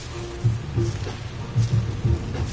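Steady rain in the video game Ark, a continuous wash of rainfall with a few low rumbles, fairly loud with no talking.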